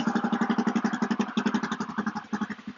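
A 2019 Honda CRF250F dirt bike engine runs at a steady idle, a close, even, thumpy single-cylinder putter that continues throughout.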